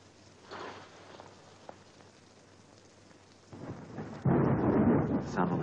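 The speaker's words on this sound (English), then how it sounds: "It's only a passing storm, darling." A thunderstorm rolls in with steady rain and low rumbles of thunder, building from a quiet patter to a loud, dense downpour in the final seconds.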